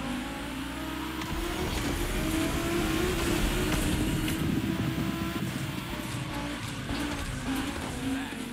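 An Audi engine revs and roars in The Crew Motorfest racing game, a loud sustained drone with tire squeal and skidding through a gymkhana run, close and continuous.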